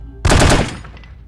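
A short burst of rapid gunfire from the video game The Operative: No One Lives Forever, loud and sharp, fading quickly into a brief tail.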